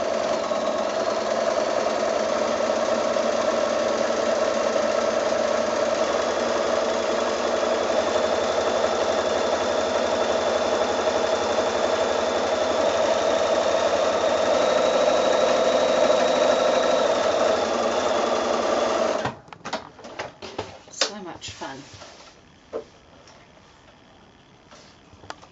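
Sewing machine stitching a quilt square, running in one steady continuous buzz for about nineteen seconds, then stopping into a few faint clicks and quiet handling.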